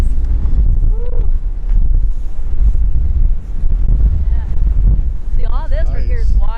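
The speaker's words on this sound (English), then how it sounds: "it's a little windy, guys." Steady wind buffeting the microphone outdoors at a frozen nature preserve in Michigan, a loud continuous low roar throughout, with a person speaking and brief whoops over it.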